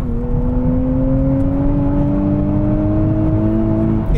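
A 2023 Nissan Z sports car accelerates steadily, its engine drone rising smoothly in pitch as it pulls hard, loud and close with no talking.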